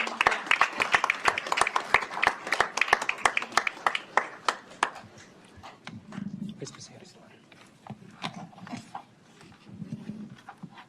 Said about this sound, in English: Please give a round of applause to each of our graduates who are here or who could not join us.